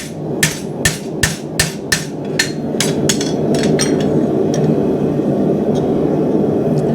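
A farrier's hammer strikes nails into a custom-made horseshoe on a hoof, about a dozen sharp metallic taps in a steady rhythm that grow lighter and fade, over a constant low background rumble.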